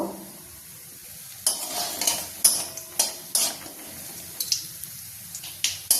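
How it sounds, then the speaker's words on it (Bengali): Urad dal bori fry in hot mustard oil in a kadai, starting quiet before a burst of sizzling, then spattering crackles and stirring clinks recurring close up without speech. "বড়িটাকে আমি হালকা ভেজে নেব।"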